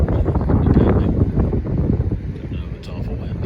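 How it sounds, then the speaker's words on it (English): Strong wind buffeting the microphone while riding a boat on a cold, foul-weather day in Northeast Florida, a loud steady rumble with gusty swells throughout. "it's awful windy"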